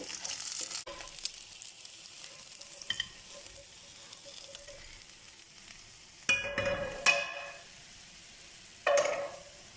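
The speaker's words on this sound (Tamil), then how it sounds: "அதே மாதிரி இதையும் நம்ம ஃப்ரை பண்ணி எடுத்துக்கலாம். ஃப்ரை ஆகட்டும்." Pieces of fish fry in hot oil in a pan, a steady close sizzle with occasional louder bursts and spatters as pieces are turned or stirred.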